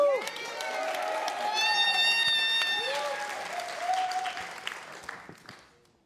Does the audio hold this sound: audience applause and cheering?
yes